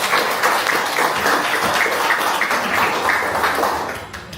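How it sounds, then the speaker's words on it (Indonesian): Audience applauding at an amateur radio (ORARI) state exam gathering in a village, a dense, steady patter of many hands clapping for several seconds before tapering off slightly at the end. "Tepuk tangan dulu ya."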